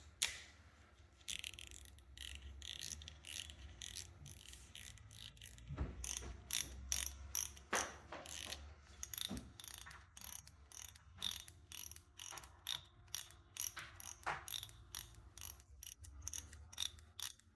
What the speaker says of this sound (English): Not the best sounding reel, but not the worst for sure.